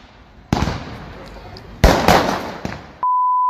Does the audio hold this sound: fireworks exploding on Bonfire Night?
yes